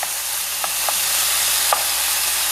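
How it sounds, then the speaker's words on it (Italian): Chicken pieces browning in a pan give a steady, close sizzle of frying, broken by a few light clinks of stirring. "Li separo per bene e li faccio rosolare perfettamente da tutti i lati."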